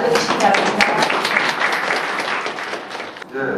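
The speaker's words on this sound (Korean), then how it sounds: "큰 박수로 맞아주시기 바랍니다" Warm, sustained audience applause fills a Korean lecture hall as a guest history lecturer is welcomed, a dense wash of many clapping hands that tapers off near the end.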